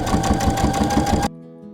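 Sewing machine stitching a half-inch seam on a coastal-style curtain with a rod pocket: a fast, rhythmic mechanical chatter at close range that stops abruptly after about a second, leaving a faint hum.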